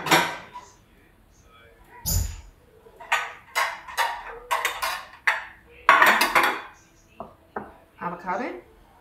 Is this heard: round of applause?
no